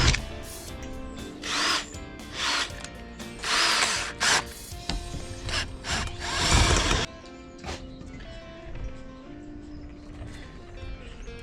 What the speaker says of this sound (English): is drill out the aluminium strengthener and tap it out